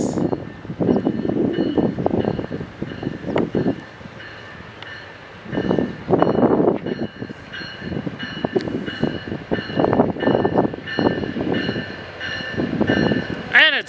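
A train rolls past in Simi Valley, its broad rumble swelling and fading in waves with a steady whine of wheels and track overhead, loud and close, with a horn-like bend near the end and voices talking over it.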